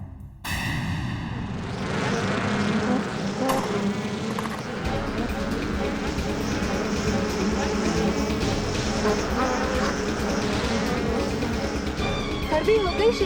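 A swarm of bees buzzes in a dense, continuous drone in a fantasy TV show scene, with voices and other sounds mixed over it.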